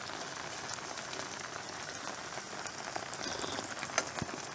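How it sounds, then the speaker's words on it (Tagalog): Light rain falls steadily at an overnight moto camping spot in Natividad, Pangasinan, a soft continuous patter with a few louder drops and no talking. "Umuulan-ulan."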